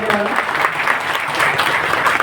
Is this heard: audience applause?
yes